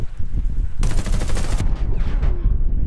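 A burst of rapid gunfire in the video game Warface, loud and close, cutting in abruptly for under a second before fading into softer game sounds and echoes.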